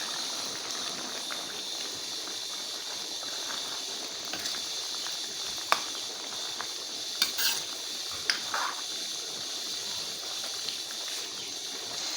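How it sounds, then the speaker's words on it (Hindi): Fried bitter gourd stirred through mutton in a hot pan, a steady loud sizzle and hiss with a few sharp spoon scrapes and clinks against the metal. "अब हम इसमें फ्राई किए हुए करेले डालेंगे।"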